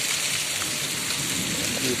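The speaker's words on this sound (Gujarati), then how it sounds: "બહુ ભારે વરસાદ પડ્યો છે" Dense, steady downpour of heavy unseasonal rain in Gadhada, loud and continuous, hissing across the whole clip.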